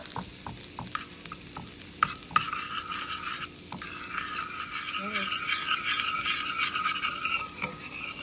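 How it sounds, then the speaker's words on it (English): Morel mushrooms cook in melted butter in a pan on medium-low heat, giving a steady close sizzle with scattered stirring scrapes and clinks of utensil against the pan. "Keep melting that butter. Mix those morels. Cook them up."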